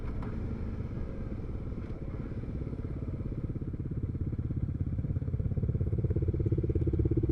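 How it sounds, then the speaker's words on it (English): A Can-Am Spyder three-wheeled motorcycle rumbles past with a low, pulsing engine throb that grows steadily louder and nearer toward the end. "One of those Can-Am Spider things"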